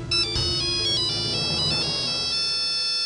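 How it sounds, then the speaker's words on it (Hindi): A phone ringtone plays indoors in a drama scene, a bright repeating electronic melody sounding steadily and clearly for about three seconds with no voices over it. "शिखा जी का फोन है।"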